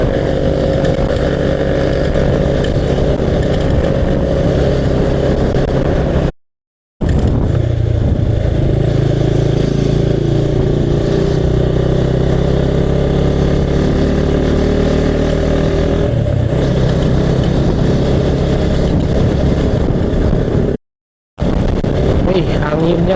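Motorcycle ridden along a coastal road near Santolo, Pangandaran, in strong wind, its engine droning steadily and loudly under heavy wind buffeting on the microphone, with two brief dropouts.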